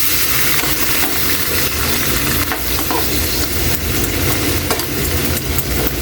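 Kangkong stalks frying in a pan for adobong kangkong, a steady loud sizzle with stirring scrapes running throughout, close and continuous with no talk.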